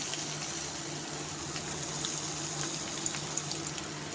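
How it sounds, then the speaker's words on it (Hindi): Onions fry in hot oil for khichdi, a soft, steady sizzle and crackle heard close with a few faint pops and no voices. "अभी हमारा ये तेल गरम हो गया है, इसमें हम ये प्याज डाल देंगे"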